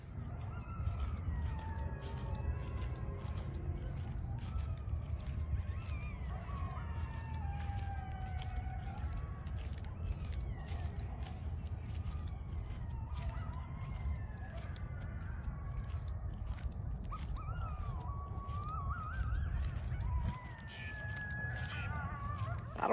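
A chorus of coyotes howling and yipping in overlapping wavering cries, set off by a distant police siren, over a low steady rumble, in Louisiana.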